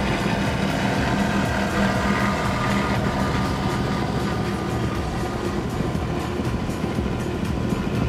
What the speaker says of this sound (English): He's got some loud engines.